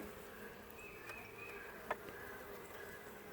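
Honeybees at a small, weak hive hum in a faint, continuous drone, with a single soft tap partway through and no voices.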